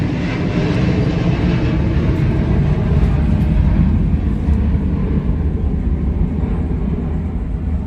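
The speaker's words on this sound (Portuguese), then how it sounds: "Olha o barulho do avião." An airplane passes overhead outdoors, a loud, steady broadband roar that swells slightly and then eases, continuous for several seconds with no talking.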